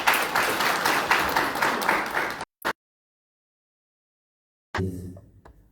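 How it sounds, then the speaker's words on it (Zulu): An audience at a prize-giving event for winners applauds loudly for about two seconds, the clapping dense and continuous before cutting off abruptly, followed by a brief burst, silence, and faint murmuring near the end. "Siyabonga kakhulu kwisibani ngicela sibashayele ihlombe."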